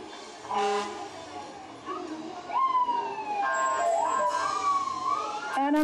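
Fire tanker truck siren in a small-town Fourth of July parade, wailing with rising and falling sweeps at moderate distance over outdoor crowd noise and a narrator's talk.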